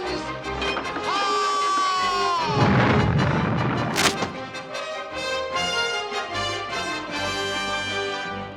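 A ship's cannons fire with one heavy boom and a crashing burst partway through, set against ringing musical tones and a short high whistle.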